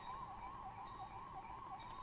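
An ambulance siren wails steadily and loudly, its tone rising and falling in a continuous cycle, heard close and alone without any talk over it.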